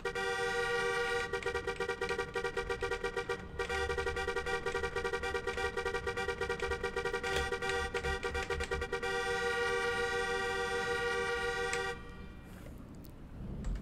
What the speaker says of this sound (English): You honk at me, bitch, I honk back.